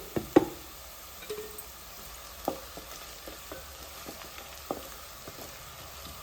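Onions sizzle softly in hot oil in a pan while a spoonful of turmeric is stirred in, a low steady fry punctuated by scattered knocks and scrapes of the spoon against the pan.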